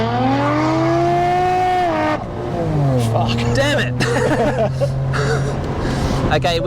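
A VL drag car at a roll racing event peels its tyres with loud engine revving and squealing, spinning wheels, close by, while people talk over it.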